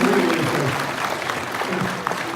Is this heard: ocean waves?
no